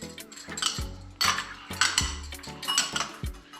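A whisk or spoon clinks and scrapes against a bowl while Dijon vinaigrette with salt, pepper and basil is mixed. The strokes come in short, irregular, close-up bursts, with no talking.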